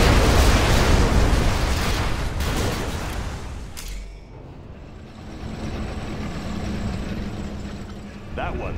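A particle cannon strike explodes in Command & Conquer Generals with a loud, dense, roaring blast that fades after about four seconds, followed by a lower rumble and a sharp burst near the end.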